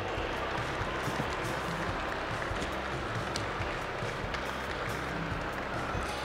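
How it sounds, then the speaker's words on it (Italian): A crowd at a junior handler dog show applauds young handlers, broad continuous clapping mixed with crowd noise, steady and fairly loud across the whole stretch without clear speech on top. "un grosso applauso a questi giovani ragazzi"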